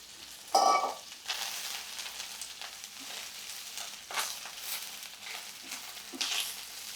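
Curry leaves go into a little oil in a pan for a curry-leaf pulusu, giving a soft, fairly quiet frying crackle, with a sharp clatter near the start and a few brief louder spurts.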